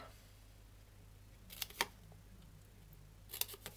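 Paper snips cut paper in two small clusters of crisp, close snipping clicks, with quiet pauses between them.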